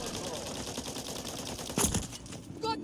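Gunfire in the shooter Warzone: a steady, busy wash of in-game shots runs throughout, with a louder burst near the end and another sharp crack just after, up close and continuous.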